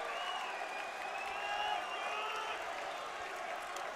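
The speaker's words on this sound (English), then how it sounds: "just listen to that crowd" A college basketball crowd roars at a men's game between Carroll and Montana Tech after a spectacular dunk, a dense, sustained wall of cheering and yelling with scattered clapping that stays loud throughout.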